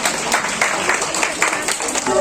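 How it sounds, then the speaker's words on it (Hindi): Clapping and applause from a small group at a farewell gathering in a therapy and rehabilitation clinic, a steady patter of hands that continues throughout at moderate loudness. "तालियां बजाते हुए"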